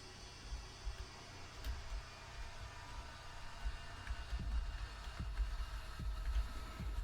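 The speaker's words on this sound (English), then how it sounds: "this beat sounds like a fucking heartbeat" A slow, ominous heartbeat-like thump pulses through Pokemon Rejuvenation game music, low repeated beats over a faint humming drone, quiet and steady with no talking.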